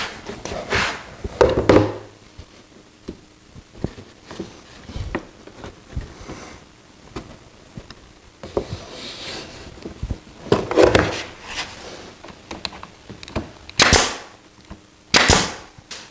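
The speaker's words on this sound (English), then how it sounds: "put a couple of brads in just to hold the corners together so they won't rotate and splay apart" A brad nailer fires brads into the corners of a wooden table frame: a handful of sharp, close pops at irregular intervals, separated by quiet handling noises and shuffling.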